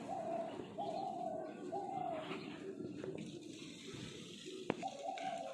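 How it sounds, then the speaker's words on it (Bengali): Doves and other birds call in the early morning outdoors, with repeated soft cooing phrases and scattered chirps over a steady background hiss, plus a brief sharp knock near the end. "সকালবেলা পাখিরা বেশ খেলতে শুরু করে দিয়েছে"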